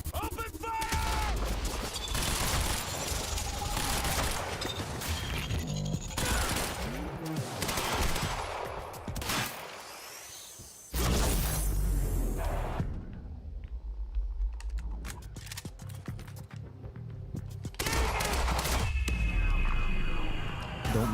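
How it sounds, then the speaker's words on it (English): Heavy gunfire in the video game Quantum Break, dense bursts of automatic fire and crackling shots filling most of the stretch, with a short quieter gap in the middle before the shooting resumes, mixed with game audio. "Neutralize the target. This is a priority order. Open fire!"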